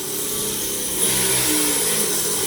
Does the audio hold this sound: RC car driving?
yes